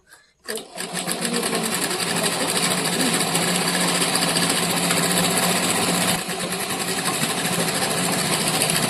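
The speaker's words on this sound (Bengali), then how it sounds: "এখানে এভাবে একটু ভালো করে সেলাই করে নিতে হবে না হলে কিন্তু এই জায়গায় ফুটোটা ছিঁড়ে যাবে" Sewing machine stitching a fabric strap onto a sack bag, a loud, continuous close-up mechanical whir that runs without a break after a brief start, with a short dip partway through.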